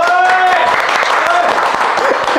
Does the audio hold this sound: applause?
yes